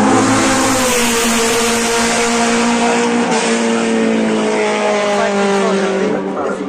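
Racing cars with 110 horsepower engines scream past at full throttle, a loud, continuous high-pitched engine drone that holds steady and shifts in pitch as they speed by.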